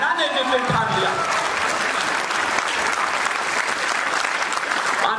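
An audience at a Hindi poetry recitation in an auditorium breaks into applause after a poem, giving dense, steady clapping that fills the whole stretch. A voice is briefly heard at the very start before the clapping takes over.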